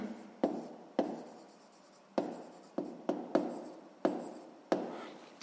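A pen writes in a notebook during a sixth-grade math exercise, making a series of short scratchy strokes at an irregular rhythm, close and fairly quiet, with no talking.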